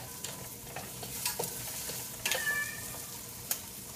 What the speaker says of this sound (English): let me get this heating up and add our Thai seasoning that we already pre-made with the coconut milk